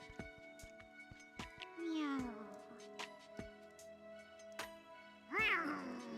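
Litten, the fire-type cat Pokémon from the Detective Pikachu video game, lets out a couple of rising, whiny meows amid clicky game sound effects, with a short cry early and a louder one near the end.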